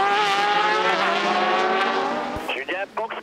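Endurance race cars scream past during the 2017 FIA WEC 6 Hours of COTA, their high engine whine rising and falling as they shift gears, with a commentator talking over the cars near the end.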